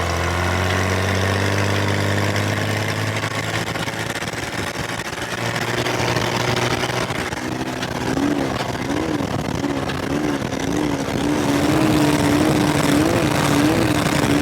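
An off-road vehicle engine idles in the desert before a pre-run, a steady low rumble that shifts partway through into a rising, wavering engine note with slight revs.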